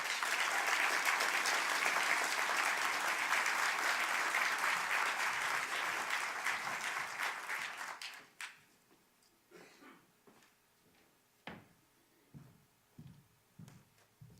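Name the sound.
audience applause for the new state's attorney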